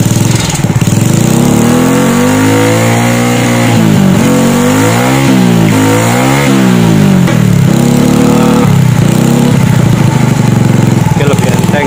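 A motorcycle engine fitted with a racing ignition setup revs repeatedly up and down, loud and close, with rising and falling throttle sweeps over a steady idle.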